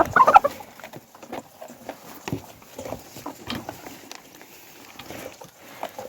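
Domestic hens, egg-laying layers, clucking and cackling as they eat a thickened wet mash of feed mixed with flour and a layer premix, busy overlapping calls close by in a yard with soft pecking patter.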